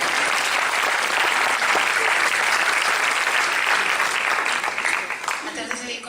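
An audience claps during a question-and-answer session at a public event in La Laguna, producing dense, steady applause that holds strong for several seconds and then thins out near the end.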